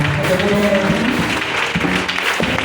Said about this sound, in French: Est-ce qu'on peut lui donner l'acclamation?